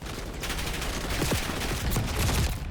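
Shotgun fire against zombies in Black Ops 6 Zombies: loud, dense blasts and broadband bursts crowd one another in a busy, continuous barrage with no talking.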